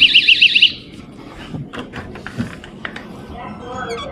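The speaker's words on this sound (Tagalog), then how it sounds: "O, diba may alarm?" A loud, high-pitched pulsing alarm sounds several times in quick succession at a backyard door, then stops as faint handling noises and a voice follow.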